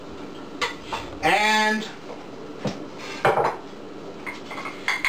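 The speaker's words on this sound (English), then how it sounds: "take the tomatoes, place them in a bowl" Tomatoes go into a bowl while fish steaks with tomato and cilantro are prepared, giving a few close clattering knocks against the dish, one longer ringing scrape in the middle, with brief speech.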